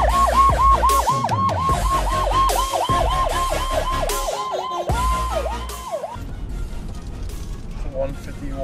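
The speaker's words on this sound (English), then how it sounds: "I got the video of an ambulance while everyone else was inside" An ambulance siren wails at a gas station, its rising and falling tone cycling rapidly for about six seconds, loud and close, over engine rumble and background noise before fading out.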